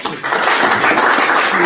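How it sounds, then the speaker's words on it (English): Applause at a mayoral election ceremony as an official is sworn in, a dense, steady patter of many hands clapping close by for nearly two seconds with murmuring mixed in. "Another round of applause."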